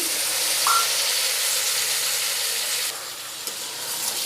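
Mutton kosha sizzles steadily in a pan after salt and a splash of water go in, a dense, close hiss that drops slightly near the end, with a brief clink partway through.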